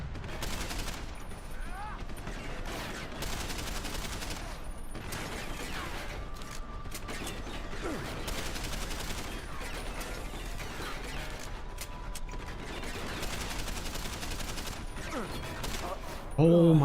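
Enemy gunfire in Deus Ex: Human Revolution, an unbroken rattle of rapid shots and mechanical clatter going on throughout, with a voice speaking over it near the end.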